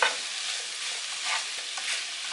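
Vegetables sizzle and fry in oil in a pan for chicken with sautéed vegetables, a steady close crackling hiss with occasional stirring scrapes, no voices.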